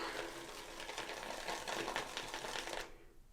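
A close, scratchy rasping sweep lasting a few seconds, a RazoRock Mamba razor blade dragging over facial stubble while shaving, then it stops abruptly.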